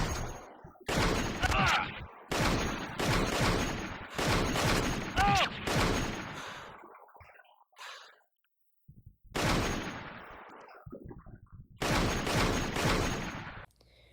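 Rapid bursts of gunfire from Konami's 2001 Jurassic Park III light gun arcade game, loud dense volleys broken by short gaps and a near-silent stretch, with game sounds layered over the shooting.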